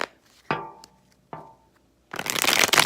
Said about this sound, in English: So we're going to shuffle for Aries, see what the advice for the week is.